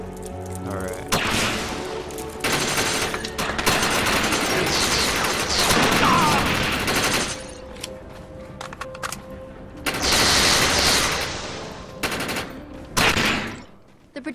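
In the video game Defiance, a player fires with overcharge at the projection, unleashing long rapid bursts of loud automatic gunfire separated by short pauses, with heavy thumps and a voice speaking between bursts.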